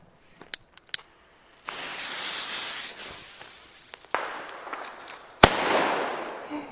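Rubro Fire Event firecrackers go off outdoors: several sharp close cracks, then stretches of loud hissing crackle and a final powerful bang trailing into a long crackling fizz.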